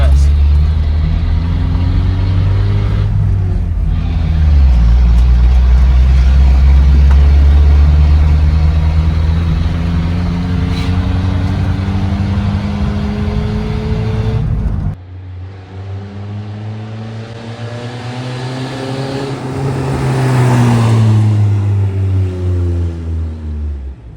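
A car, blowing heavy white smoke, is driven on its first drive, its engine steady and loud with revs rising and falling through gear changes, partly under talk.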